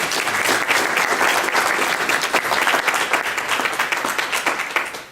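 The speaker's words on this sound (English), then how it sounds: "I really think you ought to give him a round of applause for this." A full audience at a congressional policy briefing breaks into dense, steady applause that stays loud and even for the whole stretch, easing off slightly at the very end.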